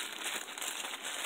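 A small plastic bag of eyelets rustles and crinkles steadily as it is handled close by at a junk-journal crafting table, with no talking.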